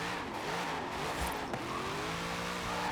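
Game engine of a new Corvette in Forza Horizon 4, revving hard through the early gears with rear wheelspin, a steady high-revving roar with harmonic tones sustained throughout at moderate level.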